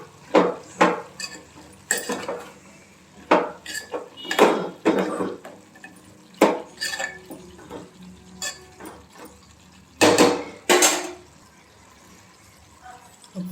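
A spoon works through curry in a metal pan after salt and chilli powder go in, giving a close run of irregular clinks, scrapes and knocks with short pauses between strokes.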